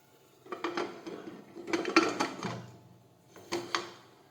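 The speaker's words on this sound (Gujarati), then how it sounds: "હવે આપણે કુકરનું ઢાંકણ છે તે બંધ કરી દઈશું" A pressure cooker lid fitted and closed, a few metallic clanks and scrapes in short bursts with quiet gaps between, close and fairly soft, no speech.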